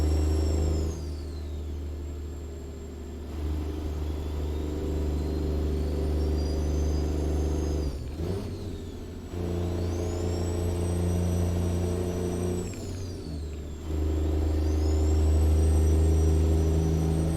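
A steady car engine hums at low cruising speed in American Truck Simulator, windows down, with a sustained low rumble and a brief dip in the drone partway through before it settles again.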